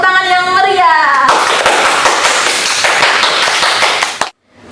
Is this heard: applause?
yes